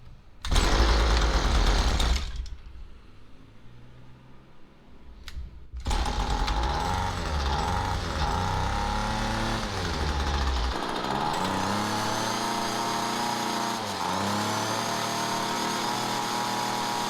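A weed eater fitted with a replacement carburetor roars into life loudly and close, dips briefly, then restarts and holds a steady, buzzing high idle with slight wavering pitch changes.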